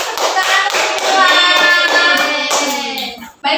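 A classroom of primary-school children claps for a classmate, a dense burst of close, loud hand claps with excited young voices mixed in, lasting about three seconds before stopping abruptly.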